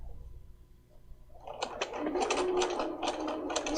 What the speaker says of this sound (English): I'm going to stitch in that spot, make a couple of stitches